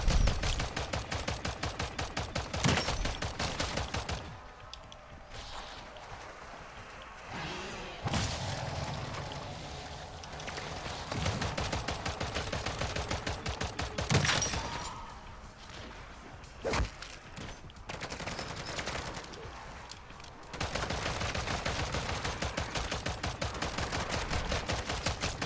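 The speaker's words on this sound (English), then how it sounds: "The sentry was finally shooting at it, then just dipped." A sentry turret in Modern Warfare 3 Zombies fires in long rapid bursts of sharp, closely spaced shots, loud and near, broken by quieter gaps with scattered impacts and whooshes.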